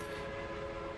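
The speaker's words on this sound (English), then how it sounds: "Yeah, this train is going up." Trains run in the video game Workers and Resources, a steady rolling rumble with a sustained tonal hum, moderately loud and continuous, with no voices.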